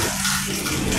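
Water from a shower runs in a steady, close, loud hiss for about a second, with no voices over it.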